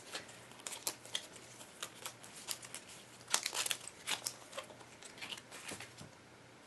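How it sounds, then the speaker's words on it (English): Encounter cards from the Shadows of Brimstone board game are shuffled by hand, giving a run of quiet, crisp riffling clicks and soft card slaps in bursts over several seconds, with no talking. "Let me shuffle these encounters because I don't remember if I shuffled them after the last game."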